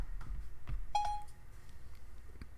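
A phone wakes up with a quick electronic beep tone, a single short bright bleep after a few soft bumps, heard alone against a quiet room.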